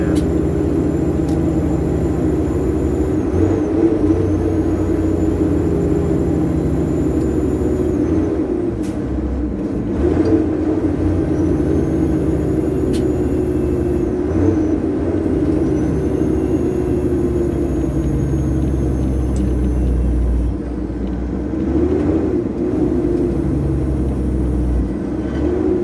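A truck with a 13-speed transmission shifts through its gears, the engine's deep rumble holding steady and close, with rises and dips in pitch and a faint hiss between shifts.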